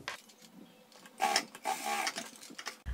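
Sewing machine topstitching along the joined seam of a fabric zipper bag, a quick mechanical whirring burst with ticking clicks that rises in the middle of the clip and fades, fairly close and alone.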